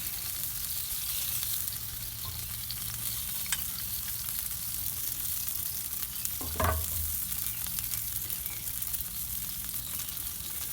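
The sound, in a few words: basting BBQ ribs with orange soda sauce on a grill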